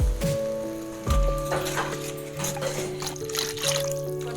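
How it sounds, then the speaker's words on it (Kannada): Water poured into a pan of Mangalore coastal-style fish curry, a splashing, trickling flow heard close and alone over a low steady tonal background. "ನೀರು ಹಾಕ್ತಾಯಿದ್ದೀನಿ."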